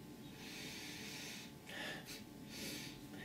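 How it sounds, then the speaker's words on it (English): Sniffing at an energy drink close up, a few sharp breathy inhalations through the nose rising over a steady low hiss of room noise, with no talking. "Upon first sniff."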